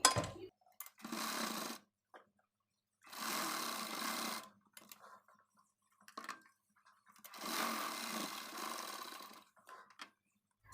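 A sewing machine stitches a boat neck blouse neckline in three loud close bursts of rapid whirring, separated by silent pauses and small clicks as the fabric is repositioned.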